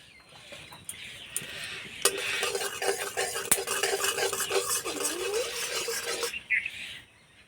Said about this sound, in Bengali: তেলে দেবো অল্প একটু হিং